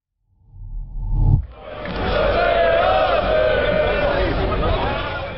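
Partizan football fans clash in the stands. After a brief thump and muffled shout, a loud, sustained roar of massed shouting voices erupts and keeps going without a break, close and heavy.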